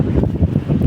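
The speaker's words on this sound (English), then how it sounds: "Oh, but it's so windy, it's so cold, man." Strong wind buffets the microphone outdoors in cold, windy Denmark, with loud low rumbling gusts that pulse unevenly through the whole moment.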